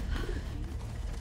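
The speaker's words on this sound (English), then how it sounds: "It's a pigeon." A pigeon coos in a movie scene, a soft, low, throaty call heard briefly over a dense rumbling soundtrack.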